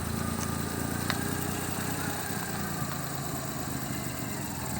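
A car engine hums steadily at low speed during a driving lesson on a practice ground, a constant close drone from inside the cabin with no voices.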